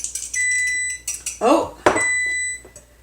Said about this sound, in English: my timer has come off because I made my muffins